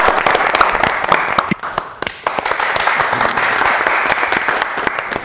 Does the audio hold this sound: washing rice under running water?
no